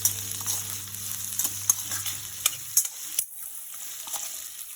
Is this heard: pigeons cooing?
no